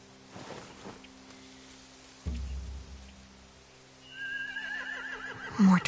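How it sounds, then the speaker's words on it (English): Horses in The Walking Dead video game: a whinny rises near the end over a quiet ambient bed, with a dull thud midway and faint shuffling hoof sounds. "They have horses."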